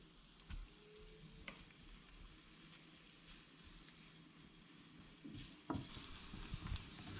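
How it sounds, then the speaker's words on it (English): Sausages browning in a hot frying pan give a steady, fairly faint sizzle throughout, with a few louder pops and stirring scrapes near the end and no talk. "What we're going to do is just brown the sausages."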